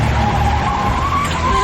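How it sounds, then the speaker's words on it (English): A car under hard braking skids with a sustained, loud tire squeal over rumbling engine noise, continuous and close for the whole moment. "I slam the brakes on real hard"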